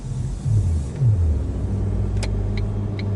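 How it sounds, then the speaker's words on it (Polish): Steady low engine rumble from inside a moving car heading into town, with slight pitch shifts as it drives on and faint small ticks near the end. "Znajduję się w samochodzie i jadę do miasta"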